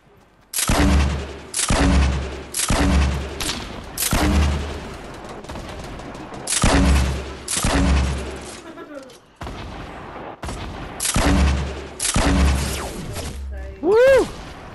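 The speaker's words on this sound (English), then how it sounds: "I hit him with a fucking sniper." Sniper rifle fire in a video game: a string of about eight loud, heavy shots at uneven intervals, each with a booming tail, ending with a rising whine.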